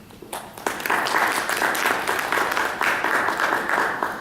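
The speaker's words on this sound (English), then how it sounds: "can you give one round of applause for such a scientist coming here." Talk audience giving a round of applause for a visiting scientist, many hands clapping in a dense, sustained patter that swells after a brief quieter start and holds steady to the end.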